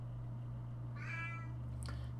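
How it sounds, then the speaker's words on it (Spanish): A single cat meow, short and clear, rising over a steady low electrical hum, followed by a faint brief noise, otherwise quiet. "Joder, gato. Qué pesado que eres."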